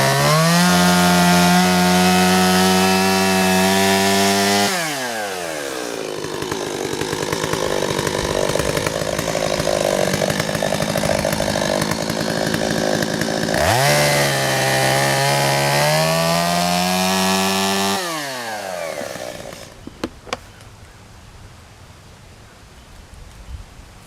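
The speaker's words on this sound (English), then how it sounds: "Trees larger than 6 inches in diameter require girdling with a chainsaw" A chainsaw girdles a prairie elm tree, cutting into the trunk for herbicide treatment; the engine drones loud and steady, sags under load in the cut, revs back up, then cuts out and leaves near silence.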